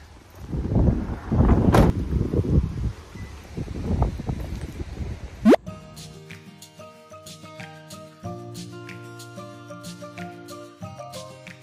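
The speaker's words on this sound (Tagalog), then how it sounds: "Ang lakas ng hangin." Loud, gusty wind buffets the microphone for several seconds, then gives way to steady background music.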